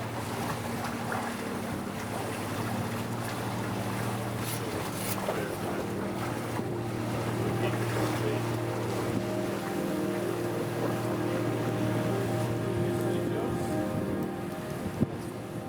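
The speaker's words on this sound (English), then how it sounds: "wind picks up in the afternoon" Steady wind and water rush aboard a traditional wooden ketch under sail off the Welsh coast, a continuous broadband roar with faint hull and rigging sounds throughout.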